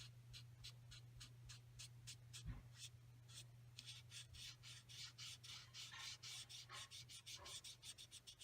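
A sponge dauber blending ink onto a paper card makes soft, repeated rubbing and dabbing strokes that are close and faint, with a steady low hum underneath.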